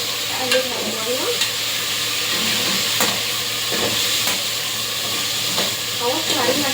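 Meat for kebab halla stirred and fried in a pot, a steady close sizzle and hiss with scraping spoon strokes across the pan throughout, no talking.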